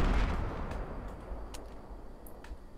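Grenade blasts in a Fortnite Search and Destroy match: a loud low boom at the start fades into a rumbling tail, with a few sharp distant pops after it.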